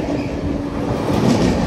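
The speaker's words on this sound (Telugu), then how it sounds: "Visakhapatnam Guntur Uday express skipping Nidadavolu." Visakhapatnam–Guntur Uday Express running through Nidadavolu station at speed without stopping, a steady loud rumble of wheels and carriages filling the whole stretch, swelling slightly toward the end.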